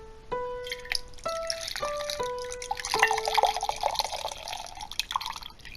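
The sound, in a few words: pouring a drink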